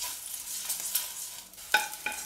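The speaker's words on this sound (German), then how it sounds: "zwei dieser zerquetschte Knoblauch in die Öl geben und die nur kurz anbraten" Crushed garlic cloves fry briefly in oil in a pan, giving a steady, fairly loud close sizzle with a few sharper crackles and stirring scrapes near the end, and no one speaking.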